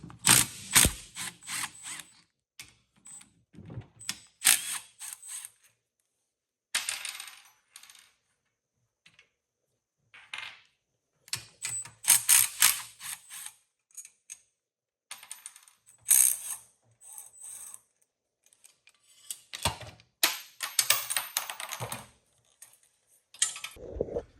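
A ratchet wrench clicks in quick bursts of metallic ticks while the handlebars come off a Honda ATC185s three-wheeler, with short pauses and loose clinks of parts between bursts, heard up close with no talking.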